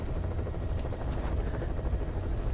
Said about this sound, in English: And the helicopter has no hitbox.